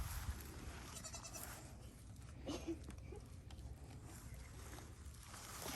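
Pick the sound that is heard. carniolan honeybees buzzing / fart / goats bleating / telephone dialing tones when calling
goats bleating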